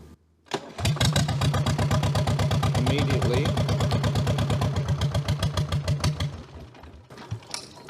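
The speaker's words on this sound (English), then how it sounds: "And if I turn the engine on," A Jabiru light aircraft engine cranks over and catches, then settles into a loud, steady close-up idle with an even rapid pulsing for several seconds before cutting off near the end.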